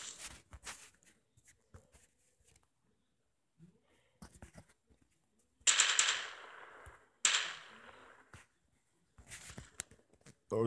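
Bursts of gunfire in the battle royale game Last Battleground, two loud sustained volleys in the middle and scattered sharper shots around them, with quieter game noises between.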